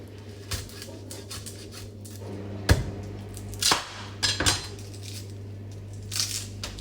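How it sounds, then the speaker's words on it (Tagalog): A knife chops garlic cloves on a cutting board in a home kitchen, with a few sharp scattered knocks and crunches separated by pauses over a steady low hum. "Paano ba kayo maghiwa ng bawang?"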